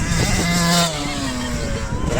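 A motorcycle engine drones steadily close by, its pitch gliding slightly as it passes, with a faint voice mixed in underneath.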